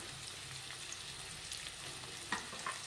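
Curry leaves and onions fry in a pan for a ridge gourd stir-fry, making a quiet, steady sizzle with a few faint crackles and soft stirring scrapes, no talking.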